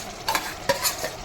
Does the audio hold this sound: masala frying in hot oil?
yes